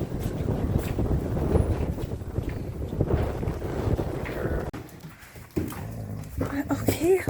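Wind gusts roar steadily across an open equestrian farm on a chilly day, buffeting the microphone, while people talk nearby and the noise briefly drops before surging back.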